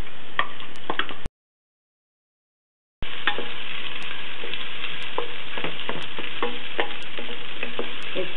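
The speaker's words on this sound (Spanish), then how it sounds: "Sofreímos la cebolla." Chopped onion sautéing in hot oil inside a pressure cooker, a steady sizzle broken by a short silent gap, with light scrapes and clicks of stirring near the pan.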